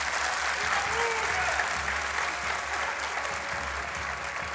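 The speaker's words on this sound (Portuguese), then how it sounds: "Mais um aplauso para ela, exatamente." Applause from a talent-show audience for a woman who has just performed, a continuous, fairly loud wash of many hands clapping with faint crowd murmur beneath.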